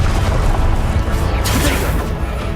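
Confringo explosive spell cast in the video game Hogwarts Legacy, producing loud booming bursts with crackling debris amid dense, rumbling combat noise.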